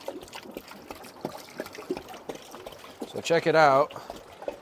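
Water gushing and trickling out of a Pentair pool cartridge filter, a short louder burst of pouring near the end, heard beneath someone talking.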